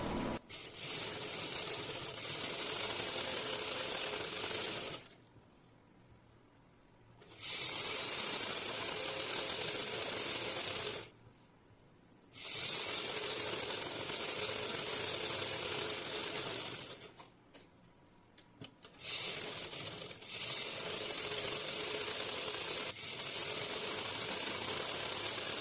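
A sewing machine stitching fabric panels for a salwar runs in three long steady bursts of whirring, each broken off by a few seconds of near silence before starting again.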